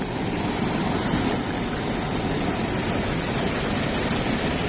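Cold, crystal-clear river water rushing steadily over rocks in cloudy hill country, a loud, continuous broadband roar with no pauses or voices.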